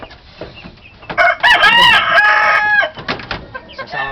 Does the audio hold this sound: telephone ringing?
no